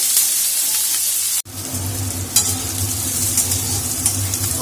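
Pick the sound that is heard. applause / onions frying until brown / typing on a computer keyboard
onions frying until brown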